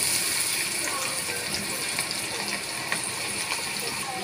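Sliced okra (bhindi) frying in hot oil for crispy bhindi fry, a steady bright sizzle and bubbling hiss throughout at close range, with a voice speaking over it.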